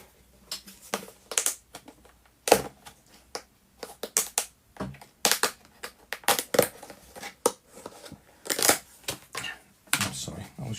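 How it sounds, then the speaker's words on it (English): A plastic tub is pried open at a model-building workbench, producing irregular sharp snaps, clicks and crinkly plastic rustles in scattered bursts, close up and fairly quiet. "I was just opening the tub"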